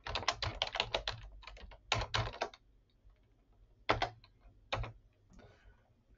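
Fingers type a formula on a computer keyboard in quick bursts of crisp, close key clicks, pausing briefly between runs of typing, with a quiet room behind and no voices.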